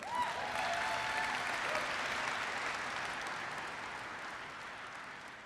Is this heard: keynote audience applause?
yes